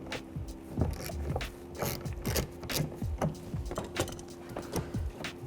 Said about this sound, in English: We're going to use a 10mm socket, an extension, and a ratchet